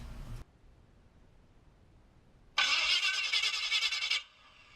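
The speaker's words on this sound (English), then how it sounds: "Let's put a few cranks on this thing." A car engine turns over on a newly installed mini starter, giving a single burst of fast, whirring cranking that lasts under two seconds after a quiet pause and then stops abruptly. The cranking is close and loud, with no talking.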